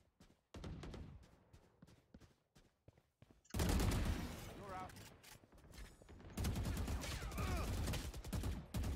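Rapid bursts of Vandal rifle fire in a tactical shooter video game, loud and dense in two long stretches, preceded by quieter clicks and taps.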